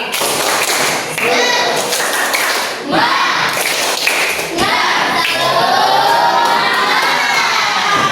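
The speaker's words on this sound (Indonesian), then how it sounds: "Tepuk semangat." A group of children performs the tepuk semangat clapping chant in a classroom, with loud shouted chanting and bursts of rhythmic clapping and thumps, the crowd of young voices filling the space.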